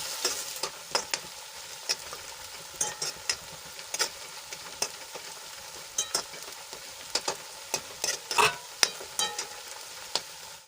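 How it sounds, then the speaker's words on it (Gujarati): Chopped onions sautéing in oil for a Gujarati dal dish, a steady sizzle with frequent sharp scrapes and clinks of a spoon stirring the pan, fairly close and unaccompanied by talk. "હવે આપણી ડુંગળી થોડીક આછા ગુલાબી રંગની થાય ત્યાં સુધી આપણે એને સંતળાવા દઈશું."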